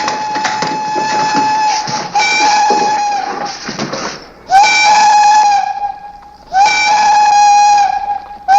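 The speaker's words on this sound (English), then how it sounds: "Checked my watch with the 5 o'clock whistle at the Tombstone mine. When the whistle continued, I knew it was an emergency." The Tombstone mine's steam whistle blows loud and close in long, sustained, piercing blasts, holding steady through several pulls separated by brief dips.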